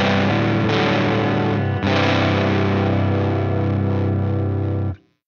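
An electric guitar through a Tone Hungry Effects Fuzz Cream fuzz pedal gives a huge, muddy, saturated shoegaze-style wash, with a couple of fresh strums in the first two seconds, then sustaining loudly before stopping near the end.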